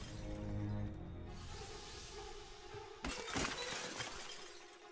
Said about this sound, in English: Hey, stop smashing the windows.